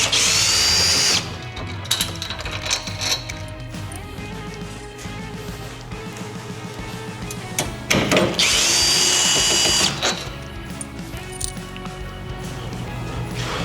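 A power tool driving socket head cap bolts back into the frame of an iQ iQMS362i miter saw, with two loud bursts of whirring at the start and near the middle, and lighter clicking and clinking in between.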